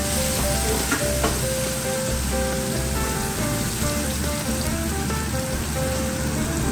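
Onions frying in hot oil in a pan for shrimp biryani, a loud, close, continuous sizzle with crackling pops and faint stirring, no talk.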